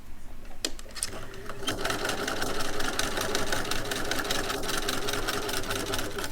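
Sewing machine with a walking foot stitching lines on a contoured head cover at stitch length 3, running in a steady, close mechanical whir after a couple of brief starting clicks.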